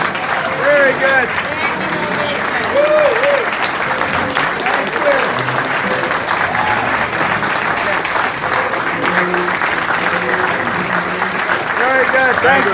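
A standing audience claps for a chef named Zuzu, a sustained, loud wash of applause with scattered cheers and voices running through it.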